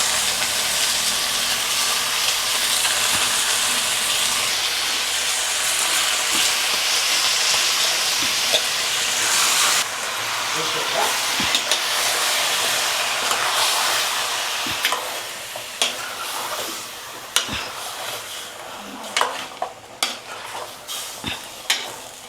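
Chicken added to softened onions in a hot pan, a loud dense sizzle and hiss with stirring and scraping, easing into sparser crackles and utensil knocks toward the end.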